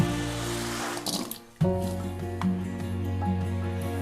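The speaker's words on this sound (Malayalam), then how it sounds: "ഇതിലേക്ക് ആവശ്യത്തിന് വെള്ളം ഒഴിക്കും" Water runs steadily from a tap into a pot of potatoes set to boil, a close, continuous gushing stream with a brief break partway through.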